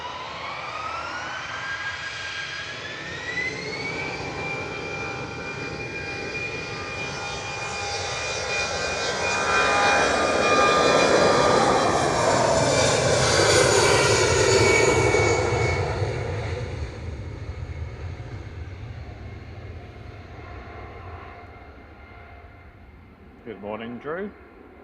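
A Lufthansa Airbus A319 departs an airport, its jet engines whining with rising tones and swelling into a loud roar before fading, while a commentator talks over it.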